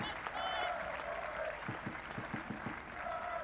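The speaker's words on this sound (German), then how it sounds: "Es gibt großen Applaus für Carla Moric, die vom Platz humpelt." Spectators at a women's second-division football match between Hamburger SV and Borussia Mönchengladbach applaud steadily as an injured player limps off the pitch. The clapping is fairly faint and distant, with a commentator's voice over it.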